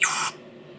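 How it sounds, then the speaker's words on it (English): A short hissing burst of spray from a spout aimed down into the carburetor intake port of a motorcycle during a spring tune-up, loud for about a third of a second, then fading to quiet. "put our spout down in there and just spray"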